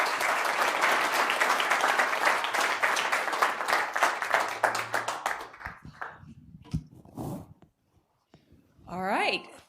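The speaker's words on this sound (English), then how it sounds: "so also give him a round of applause" An audience at a cleantech accelerator demo day claps loudly in a dense burst that thins into scattered claps and fades out, followed by quiet taps and a brief voice at the end.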